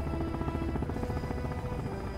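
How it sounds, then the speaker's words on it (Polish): A helicopter in Sons of the Forest flies with a steady rotor drone and a low, continuous throbbing that stays loud and close throughout. "Lecimy helikopterem."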